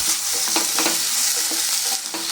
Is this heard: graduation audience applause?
no